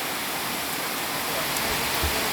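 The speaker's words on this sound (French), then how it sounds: "il y a une énorme drache" Heavy tropical downpour in Sri Lanka, a dense, continuous roaring hiss of rain that stays steady and loud throughout with no voices.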